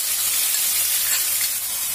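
Onion, green chilli and garlic-ginger paste fry in hot oil, giving a steady, close, bright sizzle that hisses evenly throughout with no talking.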